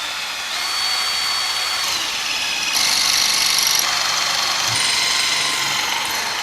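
Power drill whirring in sustained bursts during restoration work on an offshore lighthouse, a steady high whine that shifts pitch as the drill loads up, close and loud with no talk.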